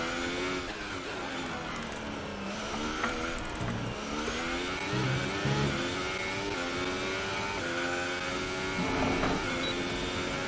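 A Formula 1 car engine in the video game F1 2018 revs high, with a loud, rising and falling whine that steps through gear changes over about ten seconds, with no talk.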